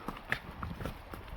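Horses' hooves clip-clop on a bush bridle track as riders move along, a quick irregular run of near, moderately loud hoof strikes with no talking.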